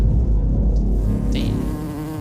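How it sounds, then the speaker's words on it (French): Flies buzz loudly and continuously right beside the listener in the Australian outback desert, a close droning hum that holds steady throughout. "Des mouches, il y en a."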